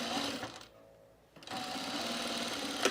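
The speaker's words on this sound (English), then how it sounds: "We love sewing on curves." Sewing machine stitching curves on a small cropped jacket, a steady rapid whir that halts briefly in the middle before resuming at full speed.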